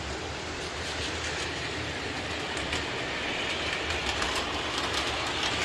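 A smoking Lionel B&O 9013 switcher model train rolls steadily along its track with a continuous rumbling hum and faint rhythmic clicking, close by and without any voices.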